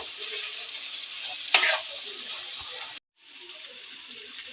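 Small bitter gourds stirred and fried in a pan, giving a steady bright sizzle with a sharp scrape of the spatula partway through, then a brief cut and the sizzle resuming more softly.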